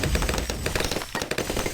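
Dartling Gunner tower in Bloons TD Battles 2 fires in a rapid, dense stream of short cracking shots, a loud continuous rattle with no voices.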